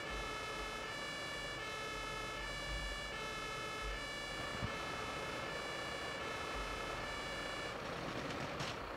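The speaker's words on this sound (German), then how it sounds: "Und der vorne macht das Martinshorn nicht aus." Fire engine siren (Martinshorn) from a firefighting simulation game, a steady, loud tonal wail with layered harmonics sounding continuously over rumbling engine noise, with a brief burst of broadband noise near the end.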